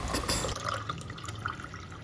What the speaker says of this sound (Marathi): आता यामध्ये गाळलेला ज्यूस ओतून घेते